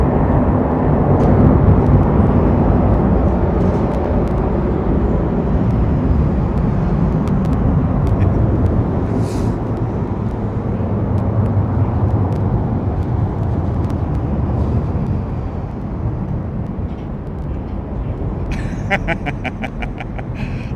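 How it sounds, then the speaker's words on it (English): A loud, continuous engine roar from aircraft nearby at London Heathrow Airport, droning steadily with a broad rumbling tone and a faint rattling near the end. "Listen to those amazing engines."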